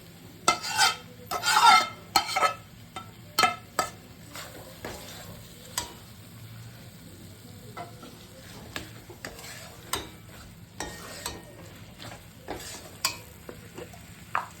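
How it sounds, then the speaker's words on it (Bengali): Lightly fried raw jackfruit goes into a pan of well-cooked spices, bringing soft sizzling under repeated sharp scrapes and taps of a spatula stirring, close by and irregular throughout. "এবার এঁচোড়টাকে হালকা ভেজে নিয়েছি, এই এঁচোড়টা দিয়ে দিচ্ছি"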